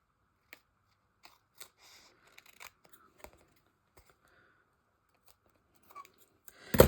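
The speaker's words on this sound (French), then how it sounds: "je viens juste découper ce qui dépasse" Scissors trim the excess paper from a scrap-art collage, making scattered short snips and crisp paper clicks spread over several seconds. The cuts are quiet and close, and a louder rustle of handled paper comes at the end.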